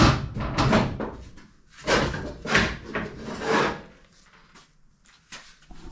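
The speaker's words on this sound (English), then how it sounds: "get the bumper off, which I should be able to just go and pull it straight off" Bumper bar being pulled off the nose of a 1952 barn door ambulance: scraping, creaking metal and knocking bursts close by, rising and falling in uneven pulls.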